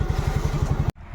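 A motorcycle engine idling close by, a loud rhythmic low putter that cuts off abruptly near the end.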